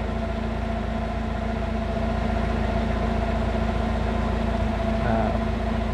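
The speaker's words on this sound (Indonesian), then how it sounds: "Kondisi idle, kipasnya nyala, ini AC juga nyala." A Mazda MR90 engine idles with its electric radiator fan and air conditioning running, producing a constant, even drone with a low hum and no breaks.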